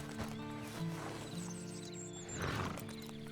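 A horse in Red Dead Redemption 2 whinnies and snorts close by, with a few clip-clopping hoof steps and a second loud neigh near the end.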